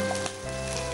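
Red and green bell peppers and onions fry in a hot pan with a dense, steady sizzle and the rustle of stirring, loud and close, with a brief scrape near the start.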